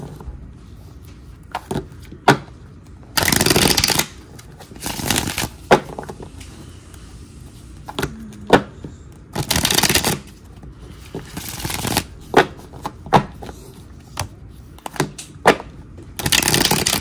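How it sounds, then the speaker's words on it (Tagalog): Playing cards being shuffled by hand in repeated bursts, sharp riffling flurries separated by short pauses and softer handling sounds, close and loud, no speech. "nabalasan na po natin mabuti ang ating baraha"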